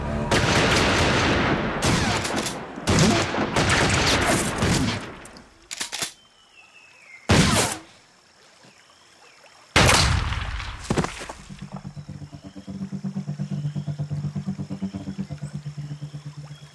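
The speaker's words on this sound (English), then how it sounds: "I'm hearing gunfire." Bursts of automatic gunfire in a sea patrol standoff, loud rapid volleys in several separate bursts with sharp single shots between them, followed by a lingering low engine rumble.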